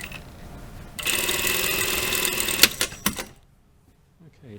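A sewing machine stitches a curved pocket bag seam on tailored shorts in one quick run of about two seconds, ending in a few mechanical clunks before it falls quiet.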